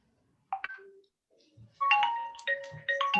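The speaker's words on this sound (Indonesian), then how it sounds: "Bentar ya, saya terima telepon." A phone ringtone plays a bright, electronic melodic tune in short repeating bursts, close and fairly loud, interrupting a quiet indoor conversation.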